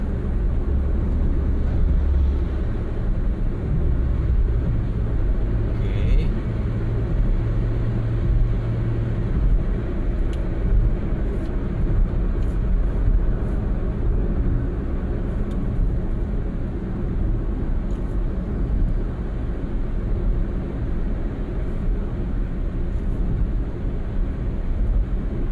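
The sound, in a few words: Honda Brio 1.2 automatic car cruising on the road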